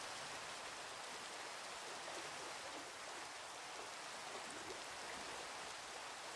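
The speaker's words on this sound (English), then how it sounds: "It's raining, that's nice" Rain falling in the game Minecraft, a constant gentle wash of raindrop hiss that stays level and fairly quiet, with nobody speaking.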